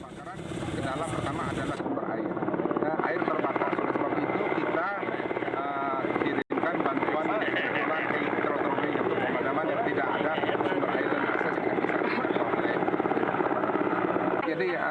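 A water-bombing helicopter fighting a forest fire thunders continuously with a dense, steady rotor and engine roar that fills the whole stretch. A narrator speaks over it.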